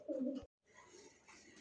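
A pigeon at a breeder's sale of local and foreign fancy pigeons gives a close, throaty coo, one short rounded note followed after a brief gap by a softer, drawn-out murmuring call.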